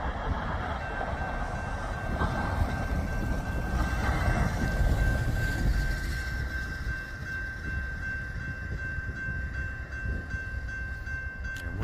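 An eastbound BNSF freight train rumbles past on the Emporia Sub at Wilder Road, Kansas, a steady loud roar of rolling wagons and wheels lasting throughout with a faint sustained tone riding on top.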